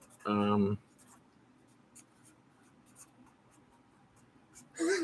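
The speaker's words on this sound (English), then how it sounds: "I will write it down." Pen scratching out a handwritten note, soft intermittent strokes at close range, bracketed by a person talking at the start and end.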